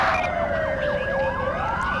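An ambulance siren in Grand Theft Auto V wails in loud, rapidly sweeping yelp cycles, sounding alone and continuous throughout.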